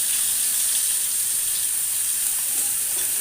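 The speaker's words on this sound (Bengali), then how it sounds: "মাঝে মধ্যে কিন্তু উল্টিয়ে দিতে হবে মাছগুলো, ভালো ভাজা হওয়ার জন্য" Fish fry in a pan with a loud, dense, steady sizzle that fills every moment with continuous crackling hiss.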